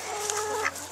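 Chickens being fed give a brief burst of close clucking and short calls, loud and steady for under a second with no talk over them.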